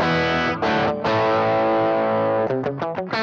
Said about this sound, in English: here's what the amp sounds like without the Sonic Distortion.